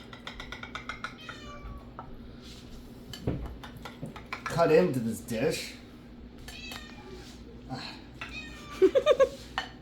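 A cat meows repeatedly in a home kitchen, with a drawn-out complaining yowl in the middle and a string of short meows at the end, while someone talks and dishes and utensils clink.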